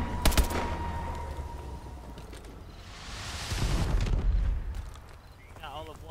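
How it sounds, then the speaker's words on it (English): Friendly missile strikes detonate in a military shooter video game, with a sharp blast followed by heavy rumbling explosions that swell and fade across several seconds. "Friendly missile strikes incoming."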